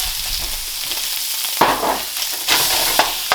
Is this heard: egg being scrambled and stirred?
yes